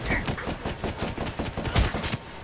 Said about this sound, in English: Oh, no, he has a LMG.